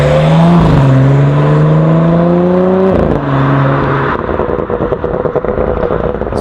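An Audi S4 fitted with a Pure 750 turbo accelerates hard, its engine note climbing loudly through the gears with a brief dip at each shift before settling into a roaring, rushing drone.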